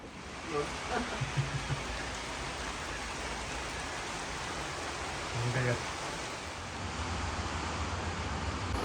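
Steady storm rain hisses throughout, a dense broadband patter with faint voices in the distance, in Stalis, Crete.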